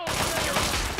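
Rapid gunfire in Fallout 3, a dense, loud burst of overlapping shots filling about a second up close.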